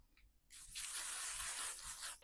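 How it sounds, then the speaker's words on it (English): A L'Oreal setting spray mist sprayed over a finished makeup look, a single soft continuous hiss lasting nearly two seconds, close and quiet with no talking. "to finally set the L'Oreal setting spray just to make this last"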